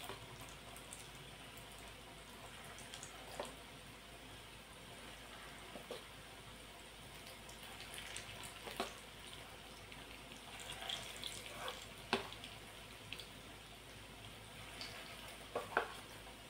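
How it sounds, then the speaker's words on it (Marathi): Chana dal fritters (bhaji) deep-frying in a pan of oil give a steady, quiet bubbling sizzle dotted with scattered small pops and crackles, with no one speaking. "आता जेवढे भजे बसतील या तेलामध्ये तेवढे टाकून मस्त कलर येईपर्यंत आपल्याला हे तळून घ्यायचं आहे"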